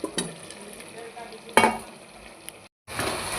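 Mushrooms stir-fried in a pan give a steady sizzle with a few loud scraping stirs. A short silent gap is followed by a renewed burst of frying, and no one speaks.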